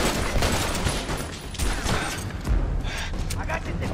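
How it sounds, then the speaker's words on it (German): Rapid gunfire from an SMG in the co-op shooter game Army of Two: The Devil's Cartel, dense overlapping shots and thuds in continuous bursts, loud throughout. "Ich fang einfach mal an zu ballern, obwohl ich gar nichts treffe."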